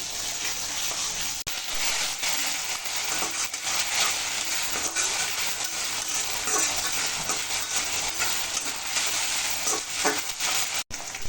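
Whole garam masala with ginger and garlic fries in hot oil for mutton nehari, a steady, close, loud sizzle with stirring scrapes and short bursts of crackle throughout, with no talking.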